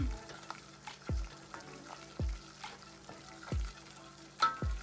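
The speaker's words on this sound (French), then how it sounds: "Puis on va laisser cuire le roux un bon 3-4 minutes là, pour enlever le goût cru de la farine." A flour-and-butter roux cooks gently over very low heat, with a soft sizzle underneath and a wooden spoon scraping the pan in regular strokes about once a second.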